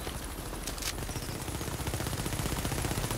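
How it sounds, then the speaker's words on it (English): Enemy fire near a turret in The Division rattles on steadily as rapid, quiet automatic shots, a continuous chattering burst heard at a distance with no talking over it. "And he's shooting me."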